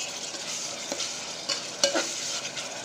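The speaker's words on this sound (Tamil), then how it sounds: "வெங்காயம் நல்லா ப்ரௌன் கலரில் வதங்கியாச்சு. இப்போ நம்ம தக்காளி சேர்த்துக்கலாம்." Onions and tomatoes sautéing in a pan for plain biryani (kushka), with a steady broadband sizzle and occasional stirring clinks, heard close and alone without any talking.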